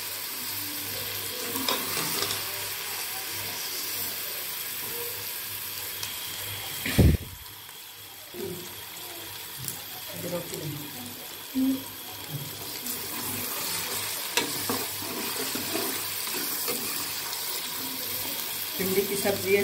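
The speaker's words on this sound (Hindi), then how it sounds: "अब भिंडी हम को अच्छी तरह से फ्राई कर लेंगे ताकि इसमें ऑयल अच्छी तरह से जज़ब हो जाए।" Okra (bhindi) frying in oil in a home kitchen, a steady low sizzle with occasional stirring scrapes and a brief louder clatter partway through, with no talk.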